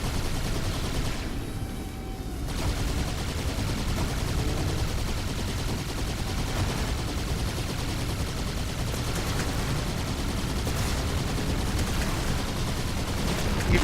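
Halo 2 co-op firefight with sustained gunfire and heavy weapons, dense continuous bursts and booms at steady high volume throughout, a tank among the combatants, with little talk over it.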